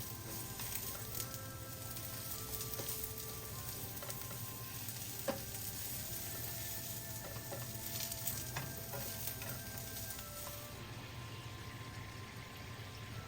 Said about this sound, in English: we cook the mushroom for about 2 to 3 minutes